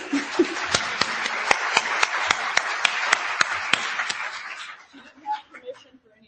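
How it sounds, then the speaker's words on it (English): An audience at a talk applauds, with sharp, evenly spaced claps over a steady ragged wash of clapping. The clapping stays fairly loud for about four seconds, then fades, and a few scattered sounds follow. "I'd like to take a moment, if you could join me in a round of applause for Ambrosia Amlon."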